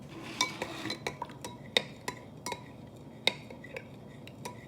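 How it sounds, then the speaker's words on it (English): A spoon stirs salt into water, with the salt settling at the bottom. Faint, irregular clinks and taps of metal against the container sound about once or twice a second between quiet swirling. "I'm just gonna stir it to see if it'll mix"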